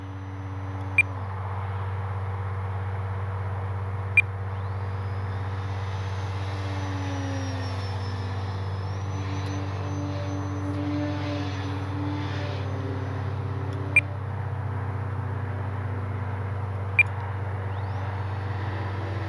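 An E-flite Timber 10-year SE RC airplane flies at sunset, its electric motor giving a steady drone with shifting pitch as it passes, and a few sharp beeps stand out over the hum.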